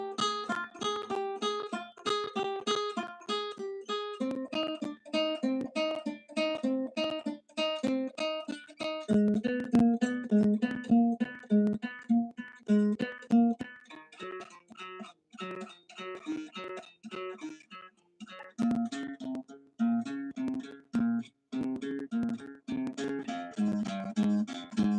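A stringed instrument plays a finger exercise, picking short repeated notes in a steady run that moves across the strings, clear and alone with no voice.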